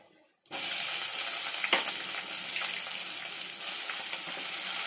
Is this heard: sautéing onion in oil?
yes